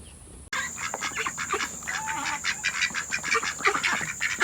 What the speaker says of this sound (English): These are some noisy ducks today.